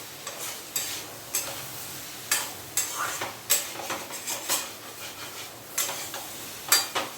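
A spoon scrapes and stirs pumpkin with salt in a frying pan, giving a series of sharp, irregular scraping clacks over a faint sizzle, close and alone with no voices.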